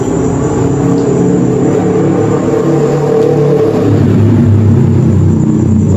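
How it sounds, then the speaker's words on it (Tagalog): Steady loud roar of passing vehicle engines and exhaust beside an abandoned hospital at night, continuous without pause, close by. "Kung naririnig niyo po yung mga tambutso."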